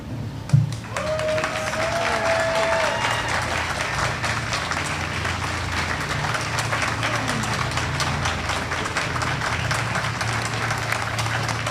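A crowd at an outdoor Overdose Awareness Day rally in Burlington keeps up sustained, even applause, with a brief whistle-like tone early on and no clear break in the clapping.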